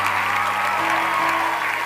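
A church congregation applauds during a Sunday afternoon service, a steady wash of clapping that holds for the whole stretch with sustained musical tones humming underneath.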